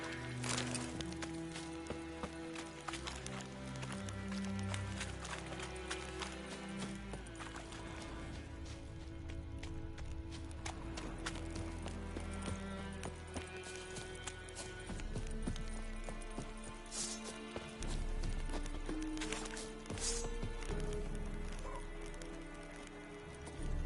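Steady clip-clop of horse hooves runs throughout, layered under continuous game music with occasional sharper accents.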